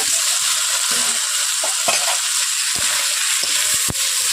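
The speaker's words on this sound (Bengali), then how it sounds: "একসঙ্গে সমস্ত উপকরণ দিয়ে আমি এগুলোকে ভালোভাবে নেড়ে নিচ্ছি।" Coconut pieces, chickpeas and potato stirred in hot oil for bhog khichuri, giving a steady close sizzle with scattered scraping strokes of the spoon against the pan.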